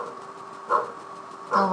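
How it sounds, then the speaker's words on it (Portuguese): A dog barks twice inside a Scratch coding animation, short evenly spaced yaps over a steady background hum. "e meu cachorro fica latindo."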